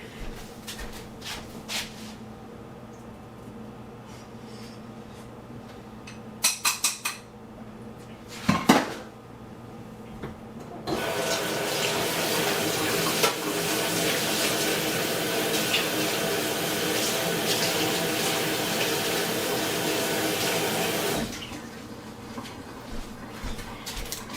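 Water running from a tap into a Blendtec blender cup being rinsed, preceded by clinks and knocks of the jar; the rushing stream starts partway through and flows steadily for about ten seconds before stopping.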